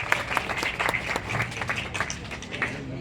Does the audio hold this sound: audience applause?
yes